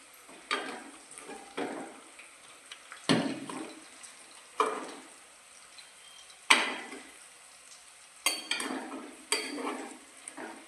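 Oil used for frying onions goes into a mutton biryani pot, bursts of sizzling and stirring scrapes arriving in repeated pulses that flare up and quickly fade, close by.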